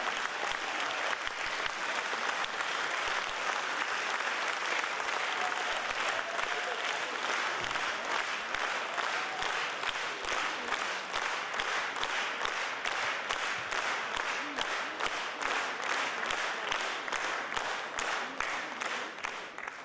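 Concert audience at a festival of Turkic-world artists applauding performers, dense sustained clapping that stays even and loud from start to finish with no talk.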